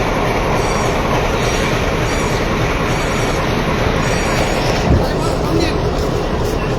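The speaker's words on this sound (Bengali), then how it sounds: "নারায়ণগঞ্জ কমিউটার ট্রেন যেটি আসলে নারায়ণগঞ্জের দিকে ছেড়ে যাবে" Commuter train bound for Narayanganj at a Dhaka station platform, a steady loud rumble of railcars and wheels with a faint squeal, under station chatter and speech.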